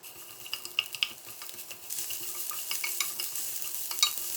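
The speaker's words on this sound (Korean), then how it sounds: "중약불에 식용유 약간, 달궈주면 양파 넣고 골고루 볶아서" Chopped onion stir-fried in a little cooking oil over medium-low heat, with scattered spatula scrapes and taps over a rising, steady sizzle that grows louder toward the end.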